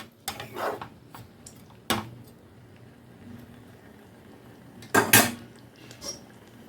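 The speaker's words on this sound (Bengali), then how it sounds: "এখন আবারও আমি একটু ঢাকা চাপা দিয়ে দেবো" A metal lid set down on a cooking pot during vegetarian pointed-gourd cooking, giving a few sharp clanks at the start, another near two seconds and a louder clatter around five seconds, close and alone.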